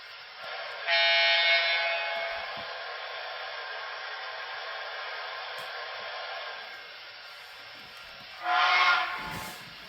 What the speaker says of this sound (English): So I'm going to go back to just the regular old whistle.